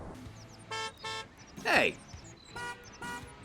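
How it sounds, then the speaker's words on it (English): A car horn honks several times in a Paw Patrol video game, a few short toots and longer blasts spread across the moment, with a voice briefly shouting between them. "Who's honking at me?"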